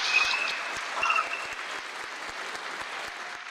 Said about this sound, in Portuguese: Eu tenho certeza que isso merece uma salva de palmas